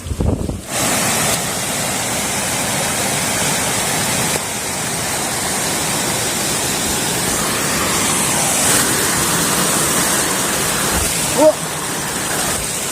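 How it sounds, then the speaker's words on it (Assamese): River water rushes steadily past in a broad, continuous roar mixed with wind buffeting the microphone, loud and close throughout with no talk heard. "এয়া এনেকুৱা নদীৰ পানী যাওঁতে যাওঁতে"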